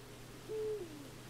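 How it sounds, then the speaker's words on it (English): A single soft owl hoot sounds in the forest ambience of the video game Endling, faint and somewhat distant above a low background hum. "I hear an owl."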